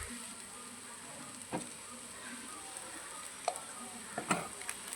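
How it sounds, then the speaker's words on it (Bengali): Chicken mince with boiled potato and spices sizzles faintly in a pan, a soft steady hiss broken by a few light clicks and taps of a spatula. "চিকেনটা হালকা ভাজা ভাজা হয়ে গেছে, এরপর আমরা সেদ্ধ আলুটা দিয়ে দেবো"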